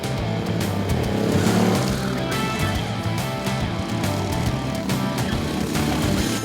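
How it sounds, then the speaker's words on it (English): Go-kart engines race at speed in a karting class, a loud, continuous, buzzing engine roar that holds steady throughout with slight surges and no talk. "Driving, I like the energy and just the speed of the go-kart."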